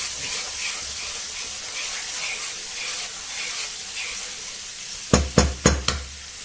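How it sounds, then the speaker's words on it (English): Steady sizzling of sausages and rice in a hot pan, ending with a few sharp clinks of a utensil stirring against the pan. "Lovely sizzling noise."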